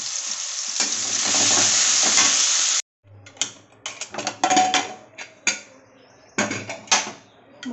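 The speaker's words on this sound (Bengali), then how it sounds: "কেটে ধুয়ে রাখা আলু, অল্প একটু লবণ হলুদ দিয়ে ভেজে নেব" Cut potatoes frying in hot white oil in a kadai with a little salt and turmeric: a steady loud sizzle, then a pause and a run of sharp scraping and stirring clatters over quieter frying.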